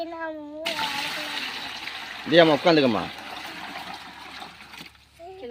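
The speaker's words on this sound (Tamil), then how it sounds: "ஒரு தண்ணி பிடிச்சி வச்சிருக்கோம் அதையும் சேர்த்துறேன்" Water splashes and pours steadily into a container for several seconds, with a voice speaking briefly over it.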